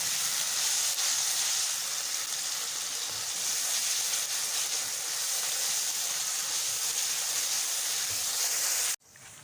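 Garlic ginger paste frying with spices in a pan, a steady, even sizzle and hiss that holds constant and fairly close throughout, then cuts off abruptly near the end.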